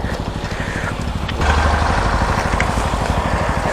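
A motorcycle engine idles with a steady, low, rhythmic putter while being parked at Golabavi, Uttara Kannada, rising slightly in loudness partway through, nearby and continuous.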